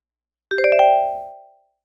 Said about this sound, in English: Once it gets to the end of the actual video, it'll give us a chime.